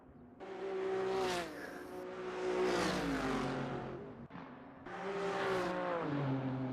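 BMW and Mercedes GT3 race cars in a racing video game, engines revving loudly and shifting pitch through gears as they accelerate, dropping briefly before climbing again, continuous close engine roar throughout.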